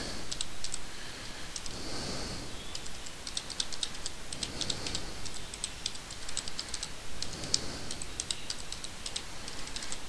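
Someone typing a website address on a computer keyboard, rapid continuous light key clicks close up over a steady hiss, no speech.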